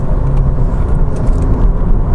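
A car engine drones loudly and continuously at high revs, run up to its 7,500 rpm redline, a deep steady roar with road rumble and no voices.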